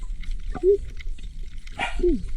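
A dog gives two short barks about a second and a half apart, fairly close, over a low background rumble.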